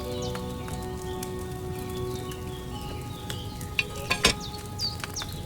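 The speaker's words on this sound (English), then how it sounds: "Hear that bubbling? It's boiling." Wine boils in a cauldron over a flame in the medieval alchemy setting of Kingdom Come Deliverance 2, a continuous soft bubbling and sizzling over a low hum, with a few louder pops near the end.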